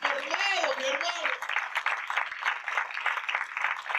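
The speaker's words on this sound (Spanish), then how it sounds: "Denle un aplauso al Señor." A church congregation applauding during a Spanish-language sermon. A voice speaks over the start, then a sustained patter of many hands clapping carries on, moderately loud and slightly distant.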